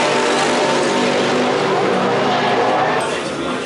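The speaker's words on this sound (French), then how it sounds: "Mathieu franchit la ligne d'arrivée, 3e derrière les 2 autres Peugeot 208 GTI." Peugeot 208 GTI race car crossing the finish line at the 2013 Nürburgring 24 Hours, a loud, continuous engine roar that holds steady and eases slightly at the very end.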